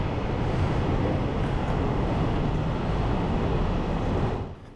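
A local train bound for Hakone-Yumoto on a Japanese mountain line rumbles steadily with a broad, loud, continuous roar, fading slightly at the very end.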